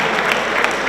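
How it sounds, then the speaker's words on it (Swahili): Audience members applaud a speaker at a formal gathering, a loud, dense burst of clapping that runs continuously for a brief moment, with scattered sharper claps standing out. "Makofi mengi sana kwake, makofi mengi sana."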